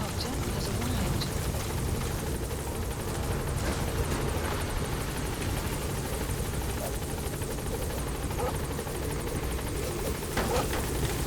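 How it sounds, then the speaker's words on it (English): A support helicopter arriving at a landing zone in a video game, with a continuous loud rotor and engine drone that stays steady throughout, no speech. "Support helicopter has arrived."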